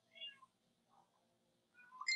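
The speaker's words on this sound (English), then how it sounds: "I hear the kitty again." A house cat meows a few times indoors, with short faint cries near the start and a louder, higher call at the end over a quiet background.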